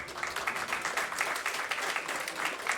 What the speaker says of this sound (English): Can we get another big shout out and a whole bunch of applause here for Ray, our representative from NAMI?